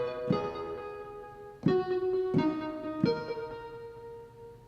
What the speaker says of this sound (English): this is just kind of this pluck sound that you use during the verse and during the bridge